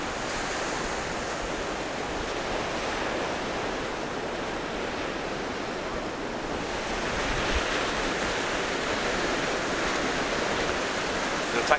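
Sea waves breaking on the beach at high tide by Lowestoft Pier, a continuous roaring wash of surf with some wind buffeting, swelling slightly louder toward the end.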